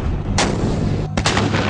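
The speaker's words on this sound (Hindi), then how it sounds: "ये artillery weapon systems indirect firing द्वारा लंबी दूरी तक जमीनी हमला कर सकते हैं" An artillery gun fires in loud, booming blasts, two or three sharp detonations within moments over a heavy rumbling background, close and forceful with no talking.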